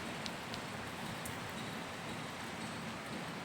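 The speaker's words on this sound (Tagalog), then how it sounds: "kagabi umulan, hanggang ngayon umuulan pa rin." Steady rain falling in Saudi Arabia, a continuous dense patter on surfaces with a few sharper drop hits, even and moderately loud throughout with no voices.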